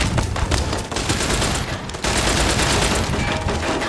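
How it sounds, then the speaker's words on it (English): Gunfire in Fallout: New Vegas, dense rapid bursts of shots overlapping in a loud continuous fusillade with brief dips between volleys. "Who else is shooting at me now?"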